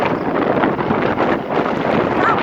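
Loud, steady wind buffeting the microphone, a roaring rush with gusty swells throughout and no clear voices.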